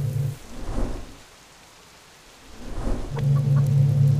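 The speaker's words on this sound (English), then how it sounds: "Just because of a little rain?" Rain and thunder in the survival game Subsistence: a heavy wash of rainfall with a deep rumble that fades into a brief lull, then swells back in strongly.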